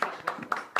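A group clapping hands in short bursts, about four claps in under a second, moderately loud and close.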